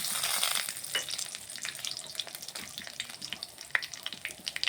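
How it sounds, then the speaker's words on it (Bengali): Green chilies, bay leaves and whole garam masala crackle in hot oil for a raw jackfruit curry, a dense close sizzle with quick popping spits throughout. "ভালোভাবে মশলাটা একটু ভেজে নিচ্ছি"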